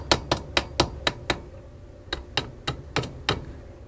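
Metal parts on a 2V Ford cylinder head are tapped loose during disassembly without a hammer: crisp, evenly spaced taps come in two quick runs separated by a brief pause, close and moderately loud.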